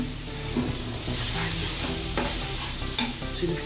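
Potatoes sizzling and frying in a pan while being stirred, a loud steady hiss close up with scraping and clattering stir strokes throughout.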